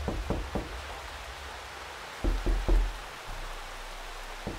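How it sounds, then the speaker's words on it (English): Knocks on a door in the horror video game The Horrors: Lost Tape: two short bursts of dull raps, a few at the start and a heavier cluster around the middle, over a steady rain-like hiss with no talking. "Somebody's knocking."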